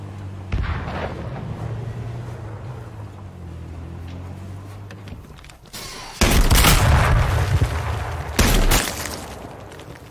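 Bursts of heavy gunfire and booming blasts in the video game H1Z1 on PS4, loud and close, with a sustained low rumble underneath and a sharp intense barrage near the end.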